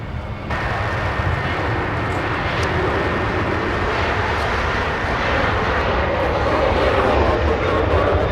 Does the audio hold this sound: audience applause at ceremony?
no